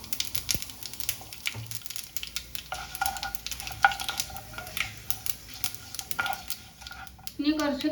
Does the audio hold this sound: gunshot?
no